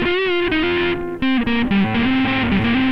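Electric guitar played through a distortion effect, a sustained, heavily overdriven tone with bright buzzing harmonics, holding a note, briefly dropping out around the one-second mark, then continuing with sliding pitch changes, loud and close.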